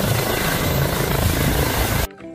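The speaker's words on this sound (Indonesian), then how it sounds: "ada helikopter" Loud, steady whirring drone of a helicopter rotor, continuous for about two seconds before cutting off abruptly, with no talk over it.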